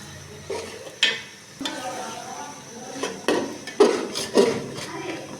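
Fish sautéed with a splash of water in a pan for muri ghonto, heard as a handful of clanking spatula strikes and scrapes against the metal over a low, faint sizzle, close by.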